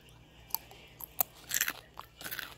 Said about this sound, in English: I don't want to crunch in y'all ear